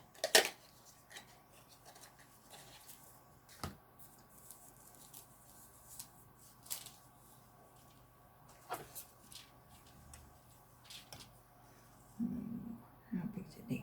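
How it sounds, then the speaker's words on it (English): Scissors snip through metallic foil for hot foil stamping in a quiet craft room, leaving a few sparse, faint cuts and crinkles spread out over the stretch, with soft handling noises in between. "I'm going to cut my foil."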